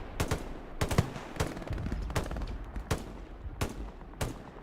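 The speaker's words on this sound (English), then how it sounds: "Bottinger drawing some machine gun fire, or it could be Janus drawing the machine gun fire." Machine gun fire in Hell Let Loose, a World War II shooter, comes as spaced bursts of sharp cracks at a moderate distance, roughly seven volleys over a steady background.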